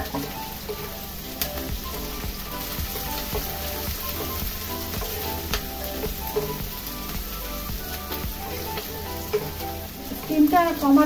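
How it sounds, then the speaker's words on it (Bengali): Capsicum and chopped green chillies fry hard over high heat for street-style egg chowmein, a steady dense sizzle with scattered crackles and stirring scrapes, close and loud throughout. "স্টিমটা জোর দিয়ে হালকা করে ভেজে নেব।"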